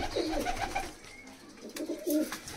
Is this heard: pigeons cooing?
yes